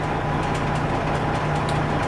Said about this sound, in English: So I'm here in the truck, I'm idling it up.